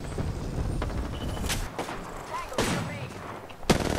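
Gunfire in the battle royale game Apex Legends: several sharp, loud shots at irregular intervals, with a crack near the middle and another late, over a constant busy game background and faint voices.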